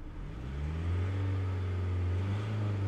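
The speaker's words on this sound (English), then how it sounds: "so let's rev it," A 2020 Ford Transit diesel van engine revs up from idle, its low droning note rising and then holding steady and loud at higher revs, close by with no talk.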